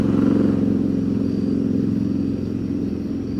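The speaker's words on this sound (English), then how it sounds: "motorcycle" A motorcycle rumbles by close and loud, its pulsing low engine note steady at first and then slowly easing as it moves off, with no one speaking.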